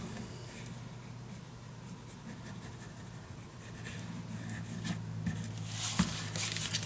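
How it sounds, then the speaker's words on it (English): Paper being creased flat with a bone folder while making a storage box: soft, close rubbing and scraping strokes over a low steady hum, gradually stronger, ending with a small tap, no speech. "bend this nicely with your bone folder, nice and flat."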